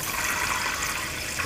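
Regular tap water poured onto soaked lentils, a steady close rushing splash that continues evenly throughout.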